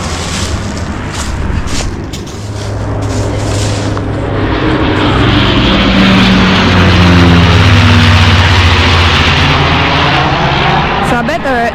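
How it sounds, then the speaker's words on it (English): A firefighting airplane drones overhead above a forest hiking trail near Kirkland Creek, its loud, deep engine roar swelling steadily as it passes, with voices briefly heard at first. "Oh, it is a fire plane."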